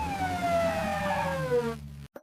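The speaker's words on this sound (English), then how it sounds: "A is for ambulance." An ambulance siren wails in a long, falling tone, loud and close, then cuts off abruptly before a short final blip.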